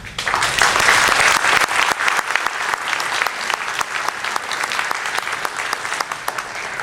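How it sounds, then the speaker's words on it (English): Audience applause at a Sasquatch festival talk, a dense, sustained clapping from a sizable crowd that swells early then holds steady before easing slightly, with no voices over it. "One more round of applause for David Ellis."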